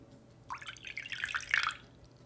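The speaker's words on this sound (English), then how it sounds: "I'm going to add in some baby oil and water." Baby oil and water poured into glossy slime, giving a short burst of wet, splashy dribbling and drips heard up close against a quiet background.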